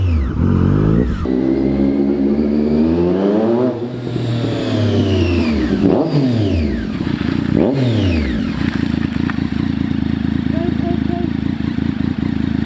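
A Triumph Daytona 675R fitted with an SC Project exhaust is revved hard and close, its engine note climbing and dropping in repeated sweeps, loud and continuous throughout.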